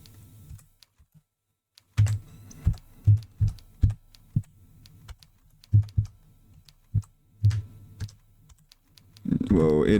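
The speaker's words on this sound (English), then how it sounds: "I'm starting from square one with this typing thing." Typing on a computer keyboard during typing practice: a brief quiet gap, then a run of close, uneven keystroke thumps and clicks with irregular pauses, growing busier toward the end.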